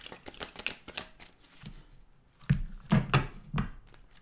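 Tarot cards are shuffled in short bursts of riffling and soft slaps, a quiet close-up pattern with a few louder thumps toward the end.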